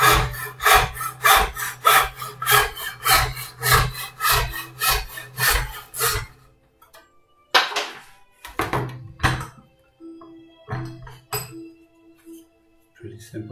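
A hand saw cuts a wood joint for a Christmas crib, with about six seconds of fast, even back-and-forth rasping strokes, then a few knocks and clunks of wood being handled.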